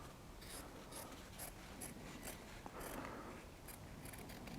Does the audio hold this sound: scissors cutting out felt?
yes